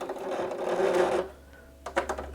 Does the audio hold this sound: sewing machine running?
yes